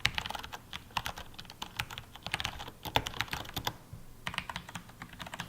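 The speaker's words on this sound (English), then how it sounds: "Moving on over, here we have the browns." Rapid, continuous typing on a mechanical keyboard fitted with tactile Cherry MX Brown switches gives close, crisp key clatter with a brief pause near the end and no talking.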